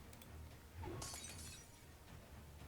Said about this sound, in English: she hears the sound of shattering